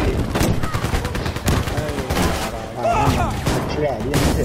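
Bursts of Sten submachine gun fire in the video game Battlefield V, rapid close shots mixed with distant gunfire and battle noise, with someone talking over the action.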